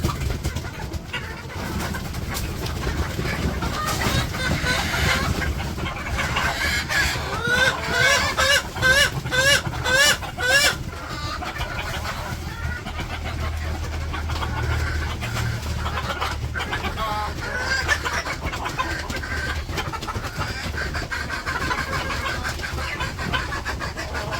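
A flock of chickens clucking and chattering together at feeding time over a steady low background rumble, with a few sharper calls standing out midway.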